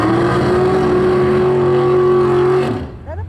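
A drag racing car roars down the strip in a run against a Camaro, a loud sustained engine note that holds steady and then fades sharply away at the end.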